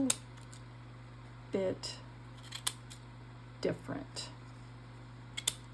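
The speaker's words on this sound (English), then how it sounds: "let me grab out my little scrapbooking scissors here" Small scrapbooking scissors snipping paper in short separate bursts, about five quick cuts spread apart, close and fairly quiet over a steady electrical hum, with someone speaking softly between the cuts.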